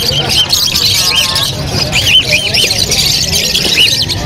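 Lovebirds, including green opaline birds, call at a bird sale in Malabon with repeated chirps and squawks over steady crowd chatter, while people talk nearby throughout.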